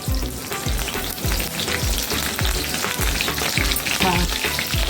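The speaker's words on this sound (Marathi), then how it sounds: "तेल गरम झाले आता अर्ध्या चमचा आपण मोहरी घालून घेऊया तेलामध्ये जिरे घालते मी चार ते पाच हिरव्या मिरचीचे तुकडे" Mustard seeds, cumin and green chilies crackle in hot oil, with dense, loud, close sizzling and rapid spattering pops that do not let up, and no voices.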